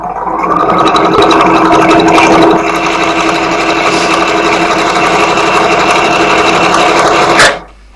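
A sewing machine runs steadily while stitching a cloth face mask, a close, loud and continuous mechanical whir that holds for several seconds, then cuts off abruptly near the end.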